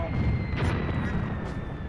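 A field artillery gun fires in the WWII tactics game Graviteam Tactics: Mius Front, giving a dense, rumbling low boom with a sharp burst near the middle, heard amid continuous battlefield din.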